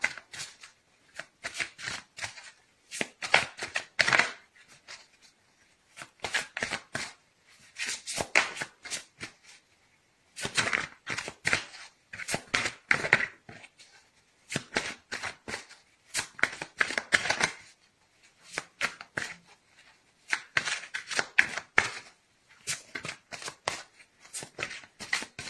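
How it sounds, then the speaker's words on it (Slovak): Tarot cards being shuffled by hand, repeated bursts of crisp riffling and flicking in uneven clusters with short pauses between, close and fairly quiet, with no talking. "takže ešte skúsime vymiešať"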